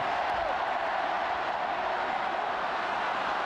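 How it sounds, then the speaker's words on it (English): Mayo supporters at the 1989 All-Ireland senior football final against Cork, a large stadium crowd cheering and roaring in a steady, dense wash of sound throughout. "Listen to the Mayo following right now"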